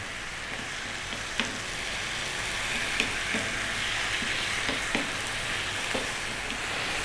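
Fresh chopped tomatoes cook down over medium heat for a whole zucchini tomato sauce, sounding as a continuous bubbling sizzle with a few sharp ticks of stirring or spattering, and no voices.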